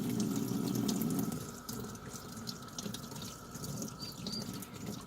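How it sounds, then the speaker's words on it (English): Very hot water from an on-demand heater runs through an emu eggshell to rinse it, a steady soft splashing trickle with a heavier gush at the start that then eases to a gentle flow. "So that's giving the egg a really good rinse."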